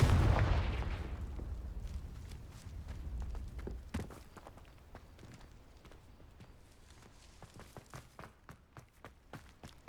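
A Confringo spell blast in Hogwarts Legacy, a loud booming explosion at the start that rumbles and fades, followed by a sharp impact and then a series of soft rhythmic footstep-like taps.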